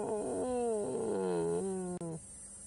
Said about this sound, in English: This sort of low, you might hear it again just now. Sort of like a throaty howl almost.